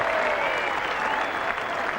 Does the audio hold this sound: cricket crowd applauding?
yes